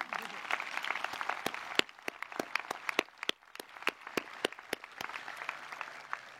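Scattered audience clapping for a graduating class at a graduation ceremony: sparse, distinct individual claps in loose rhythm with a soft murmur of voices underneath.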